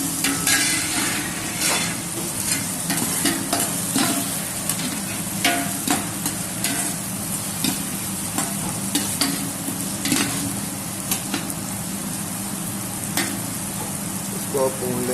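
Onions with ginger garlic paste fry and get stirred in a pan for a pulao, giving a constant close sizzle broken by repeated scraping strokes of the spoon.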